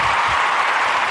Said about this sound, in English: we got an applause right here, sound effect right here